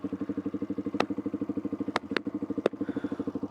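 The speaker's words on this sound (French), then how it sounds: "Alors, déjà, on démarre la moto." A Fantic 125 motorcycle idles with a steady, fast-pulsing putter close by, punctuated by a few sharp clicks and clanks.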